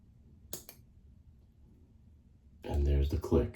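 A Philips OneBlade shaver blade snaps onto the handle with a single sharp, brief click, followed by a short pause and then someone speaking nearby.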